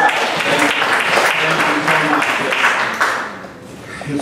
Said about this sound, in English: Applaud for you guys.